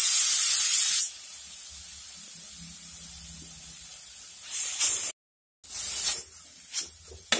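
Grated carrot frying in ghee in a kadai over a low flame gives a steady spray-like hiss, loud at first and then a softer simmer, followed by a few bursts of sizzling and stirring.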